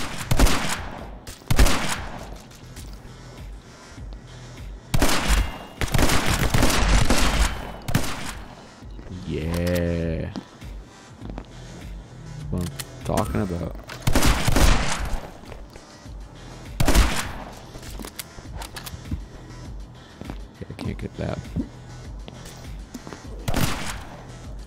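Shotgun blasts from the video game My Friend Pedro boom out in loud, spaced bursts with thuds and game effects between them, while a person talks at times.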